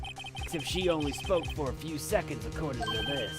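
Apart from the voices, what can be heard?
phone ringtone in Ace Attorney video game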